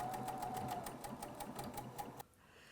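A BERNINA sewing machine sews a blind applique stitch on fabric binding, a steady close mechanical chatter of rapid needle strokes that stops abruptly near the end, with no voices.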